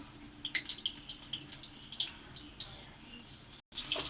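Banana flower fritters frying in hot oil, a steady close crackle and sizzle with scattered sharp pops throughout, briefly cut off near the end before resuming, with no talking.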